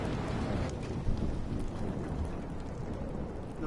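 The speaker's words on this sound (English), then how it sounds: "No more storms." Steady heavy rain hisses throughout a thunderstorm in the Life is Strange video game, with a low rumble of thunder underneath and a brief gust near the one-second mark; no voices.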